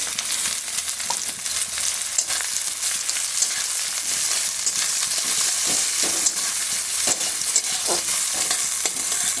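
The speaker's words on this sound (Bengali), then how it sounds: "এখানে আমি ছোট সাইজের 4টা পেঁয়াজ নিয়েছি, কুচিয়ে নিলাম, দিয়ে দিচ্ছি পেঁয়াজগুলি।" Finely chopped onions fry in hot oil with cumin, giving a steady crackling sizzle punctuated by repeated scraping strokes of a spatula stirring the pan.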